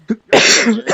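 A single sharp sneeze, close and loud, preceded by a quick intake of breath.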